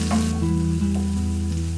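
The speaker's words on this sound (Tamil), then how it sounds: "அது கூட கொஞ்சமாக கருவேப்பிலை இதெல்லாம் சேர்த்து வதக்கிக்கோங்க." Shallots, garlic and curry leaves sauté in hot oil in a pan for an okra curry, giving a loud, close, continuous sizzle with a little stirring and no voices.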